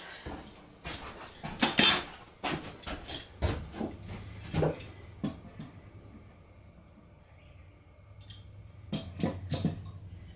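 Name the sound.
corner clamps being set on wooden frame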